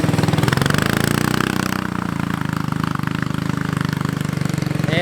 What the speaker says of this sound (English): our other off-road cart may be slow. However, this thing is an absolute powerhouse.